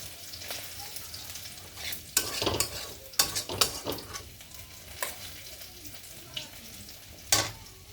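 Taro stems and jackfruit seeds stir-fried in a pan: a quiet sizzle is broken by irregular spoon scrapes and clacks against the metal, close up, with no one speaking.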